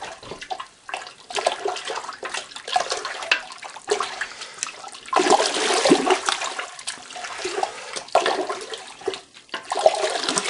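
A spoon stirring a mead mixture of honey and water in a vessel, with a loud, continuous sloshing and swirling of liquid, close by and with no talking.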